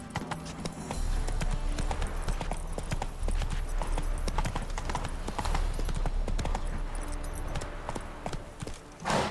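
Roach, a horse in Witcher 3, gallops over uneven ground with low bushes, a steady rapid clip-clop of hooves running loud and continuous throughout.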